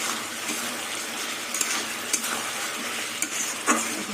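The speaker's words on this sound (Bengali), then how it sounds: "আলু দিয়ে মশলা দিয়ে কষাতে কষাতে তেল ছেড়ে দিয়েছি" Potatoes sizzle in oil with spices while being stirred, a dense steady frying hiss broken by scraping strokes and light clinks of the spoon against the pan.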